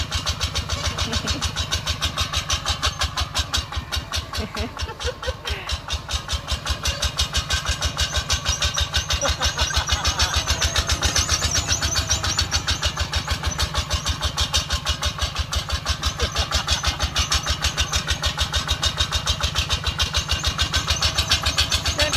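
A tractor's diesel engine cranks and catches, then runs with a steady, rapid chugging idle that stays loud and close throughout.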